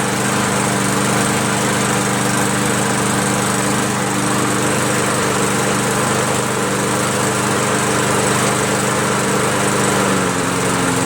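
An MTD push lawn mower fitted with a Predator engine runs steadily at close range, a loud, constant droning engine hum that never lets up, with no talking over it.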